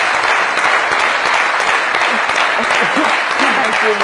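Loud, steady applause from a studio audience at a comedy talk show, a continuous crackle of many hands with low murmuring voices underneath.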